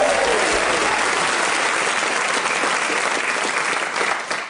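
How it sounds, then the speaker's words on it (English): A crowd applauds loudly and steadily, a dense wash of clapping that holds for several seconds before thinning slightly at the end. "Would you please give a round of applause for the letter A?"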